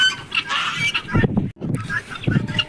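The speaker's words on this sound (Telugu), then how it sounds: "అవి కూడా బాతులు అనుకుంటా." Poultry honks and clucks at a sheep farm in the Kuwaiti desert, with goose-like calls coming in short bursts at moderate distance, mixed with other farm noise and a voice nearby.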